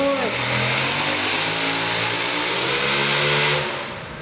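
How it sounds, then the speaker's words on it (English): A big-block Oldsmobile-powered pulling truck roars at sustained high revs during a truck pull, a loud, steady engine howl with a brief rising sweep at the start that fades slightly at the end. "Big block, Oldsmobile power."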